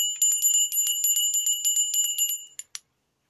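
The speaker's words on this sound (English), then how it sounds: "And then there's this, which is a Beatles bell." Small Beatles City Liverpool souvenir bell rung in a quick, steady run of bright metallic dings for about two and a half seconds, ending with two separate final strikes, close and clear with no talking.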